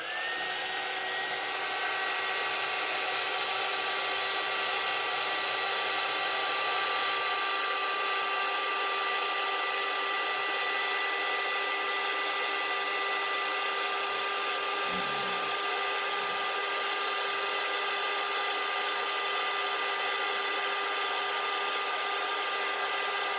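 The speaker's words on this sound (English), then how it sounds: "Now we're going to heat our heating tool." An embossing heat tool for card making runs with a steady, loud, blowing whir that holds the same tone throughout, with no voices.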